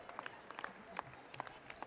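A crowd at a San Francisco public announcement claps faintly in the distance, scattered sharp hand claps over a soft murmur with no distinct cheering.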